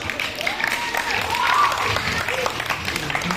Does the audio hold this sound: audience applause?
yes